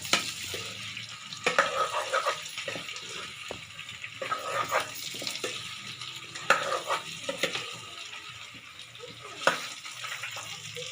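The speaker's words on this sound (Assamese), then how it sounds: "এইখিনি অলপ লৰাই দিব।" Duck meat frying in a pan with ginger garlic paste, stirred with repeated scraping strokes over a steady sizzle, clear and close with no talking.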